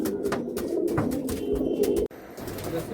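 Pigeons cooing in a loft of Andhra and Madrasi breeds, a continuous close throaty cooing chorus with wing and perch rustles, briefly cut off near the end.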